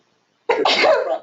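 A single sharp sneeze bursts out after a brief silence, close and loud.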